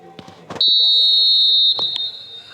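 A loud, shrill referee whistle blast in a football video game set at the Allianz Arena, held for about a second, with brief bits of voices before and after.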